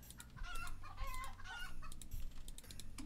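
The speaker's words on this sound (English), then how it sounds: "I'm going to take the giant chickens" Giant chickens in a base-building video game cluck repeatedly in short, uneven bursts over a steady low hum, at moderate loudness.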